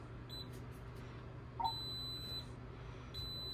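An Anycubic Wash and Cure Station refusing to start gives short electronic beeps, a couple of quiet chirps early then a sharper beep with sustained tones, over a low hum in a quiet room.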